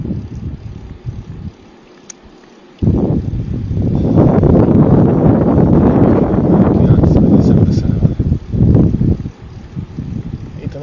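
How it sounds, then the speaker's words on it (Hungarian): Wind rushes past a cyclist riding downhill with a tailwind, a steady broadband roar that swells loud and dense after a brief lull and stays strong, with faint rustle underneath. "nyom a szél hátulról"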